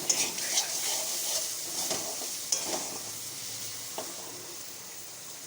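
Boiled, deboned fish frying in spiced oil in a pan gives a soft, steady sizzle, with a few light stirring clinks and scrapes.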